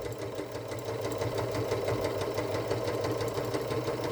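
Close and continuous, a sewing machine runs at a steady pace, stitching shifty fleece fabric around the toes of a Christmas stocking, its even mechanical hum threaded with a rapid, regular needle clatter.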